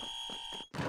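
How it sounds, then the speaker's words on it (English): An electronic buzzer sounds in a basketball video game as a steady, bright tone lasting just under a second. It cuts off abruptly and is followed by a short burst of noise. "Coming up on the buzzer."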